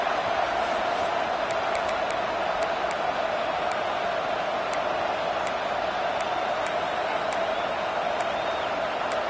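Distant crowd roar at a youth football game, a steady wash of cheering noise with faint scattered ticks, continuous and even in loudness throughout.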